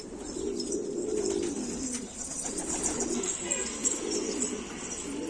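Pigeons coo in a low, soft, continuous murmur, several birds overlapping at close range, with faint chirps and rustling above a steady background hum.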